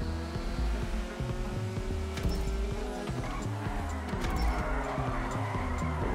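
A Custom Weevil car in a GTA 5 Online street race, its engine droning steadily while the tires squeal and skid through drifting turns, loud and continuous.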